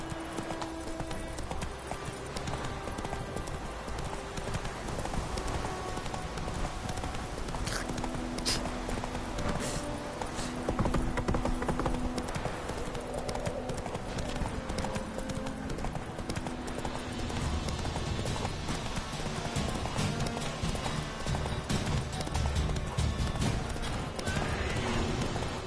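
Horse hooves clip-clopping in The Witcher 3, a steady rhythmic beat under continuous game music and ambience, with a neigh or whinny, lasting the whole stretch.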